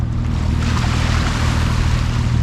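Steady low drone of a sailboat's engine running continuously on a calm sea off the Balearics, a loud, even hum with a soft wash of water and wind over it.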